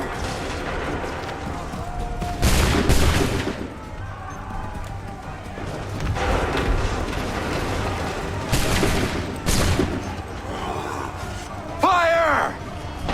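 Musket volley gunfire in Assassin's Creed 3 Remastered: several loud broadband bursts of massed shots ring out amid battle noise, shouting and an ongoing din, with a brief rising whistle near the end.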